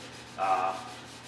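A short, soft scrape of hand sanding rubs once across primer on a car body, quiet against a steady low hum.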